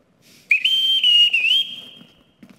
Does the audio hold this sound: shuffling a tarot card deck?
no